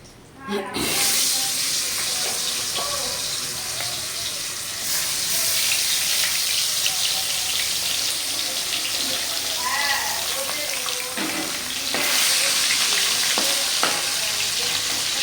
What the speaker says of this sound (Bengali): বেলে মাছটা ভাজা করছি।